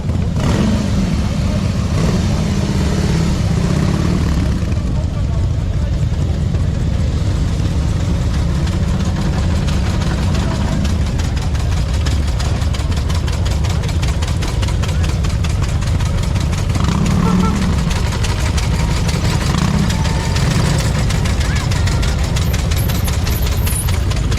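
Harley-Davidson motorcycles roll into a car show with engines running, a steady low rumbling idle and throb that holds throughout at close range, with faint crowd noise beneath.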